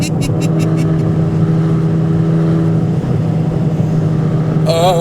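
A 2026 Chevrolet Corvette ZR1 engine of 1,064 horsepower drones steadily at close range, a loud sustained tone with a brief rising note at the end and faint voices at times.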